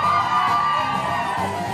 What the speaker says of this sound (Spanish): Y vamos a empezar el grito de las mujeres que se escuche.